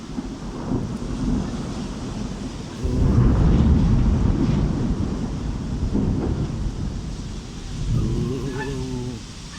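A deep, rumbling roll of thunder swells and lingers over steady rain in London, with a cat's meow sounding near the end.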